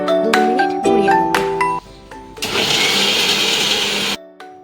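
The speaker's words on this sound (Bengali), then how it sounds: "এরপর মিক্সার গ্রাইন্ডারে 2 মিনিট ঘুরিয়ে নেব" A mixer grinder whirs loudly for about two seconds, blending Punjabi lassi with cardamom powder, black salt, raisins and water, after some bright ringing tones, then cuts off abruptly.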